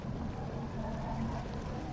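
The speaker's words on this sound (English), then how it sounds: "that's the sound of the engine coming back again" A low rumbling drone from a video-game submarine engine starting back up, a steady deep hum with faint rushing water-like noise, no voices over it.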